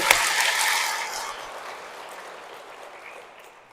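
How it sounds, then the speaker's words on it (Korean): A church congregation gives a brief burst of applause that starts strong and quickly fades away over a few seconds, with no voices heard. "자, 박수 한번 쳐주세요."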